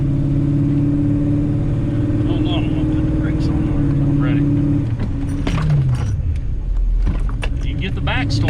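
A car out on a test drive with Wilwood aftermarket brakes, its engine droning steadily at close range with a road rumble underneath, the pitch dipping midway as the car slows, while someone talks over it.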